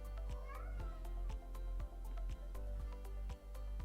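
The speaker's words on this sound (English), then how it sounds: "I'm sorry about the cat meowing." A cat meows in a rising, drawn-out call near the start, fairly faint in the background, amid a steady low hum and repeated sharp tapping sounds.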